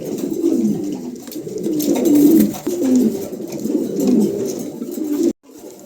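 A pair of German cropper pigeons, one of them blue, coo in low throaty rolling calls that repeat steadily and close by, ending in a sudden short gap.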